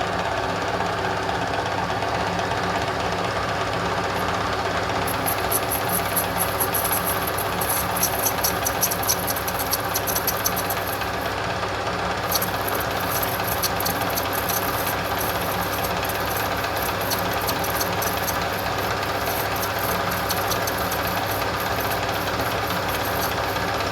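A chainsaw chain sharpening machine runs steadily and loudly with a constant motor hum and rattle, joined midway by a high grinding whine from the wheel working on the chain's cutting tip, with no talk.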